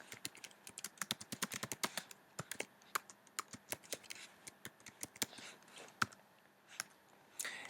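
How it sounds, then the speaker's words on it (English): Quick, crisp clicks of a computer keyboard as notes are typed, irregular bursts of keystrokes with brief pauses, close and fairly quiet with no talking. "there has been an area that allow you to create presenter notes where you can type quick notes to yourself."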